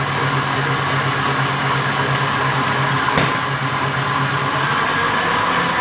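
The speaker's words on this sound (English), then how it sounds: "we're going to mix this on a high speed for 2 or 3 minutes until it goes really light" An electric mixer whisks eggs and sugar at high speed for a Genoise sponge, giving a steady, loud, droning whir with a single brief knock midway.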